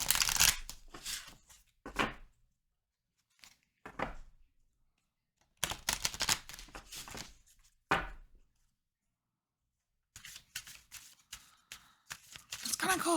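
Lenormand cards being shuffled in bursts of quick riffling and flicking, with short pauses of silence between each run, close and fairly crisp.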